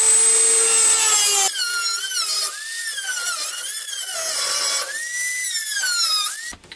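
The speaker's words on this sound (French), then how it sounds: "comme la scie à métaux, c'est un peu saoulant." A hacksaw cuts through metal on a Citroën Traction 11B, with a close, steady, squealing rasp whose pitch wavers stroke by stroke before it stops abruptly.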